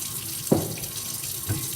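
Water runs steadily from a kitchen tap while canning jars are washed in hot soapy water, with a soft continuous hiss and a couple of brief clinks or splashes.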